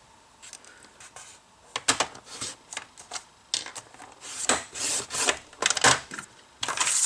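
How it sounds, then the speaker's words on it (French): A blade scores a small groove into the back of a paper birth-announcement card, producing a string of short, crisp scraping and rubbing strokes close up with quiet pauses between. "je vais faire une petite rainure derrière"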